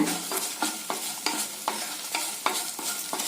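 Fried onions, chilies and asafoetida stirred in a pan, a rhythmic series of spatula scrapes about every third of a second over a continuous light sizzle, close and without speech.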